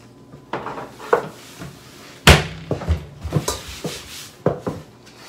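Pans handled in a home kitchen, with irregular metallic clanks, knocks and scrapes, one sharp loud bang near the middle, and softer rattles spread throughout.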